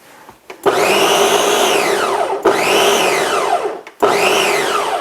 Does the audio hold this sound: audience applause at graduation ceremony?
no